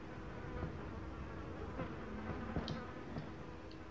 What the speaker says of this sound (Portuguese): Muitos insetos pequenos estão festejando nas sobras.